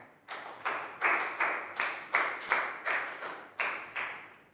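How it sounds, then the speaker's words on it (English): A classroom of Year 3 pupils claps in unison for a classmate, about a dozen sharp, evenly spaced group claps in a steady rhythm, close and crisp with no talking. "Big round of applause for Lakgao"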